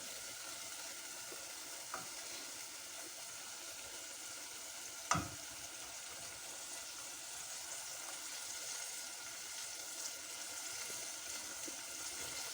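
Potatoes with fenugreek leaves fry in a pan in a home kitchen with a steady, quiet sizzle. A single brief clink of a utensil sounds midway, and no one speaks.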